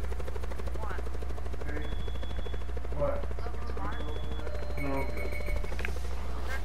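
Helicopter and gunfire in the video game Call of Duty: Black Ops 4, a steady low rotor drone running throughout with scattered bursts of shots and chirpy in-game effects layered over it.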